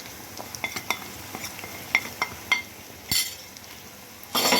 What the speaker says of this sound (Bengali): মশলাটাকে একটু সময় নিয়ে ভালো করে কষাবো